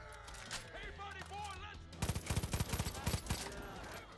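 Rapid bursts of automatic gunfire in the Far Cry 5 shooter game erupt midway, a dense fusillade of close, loud shots following quieter game sounds and a voice talking.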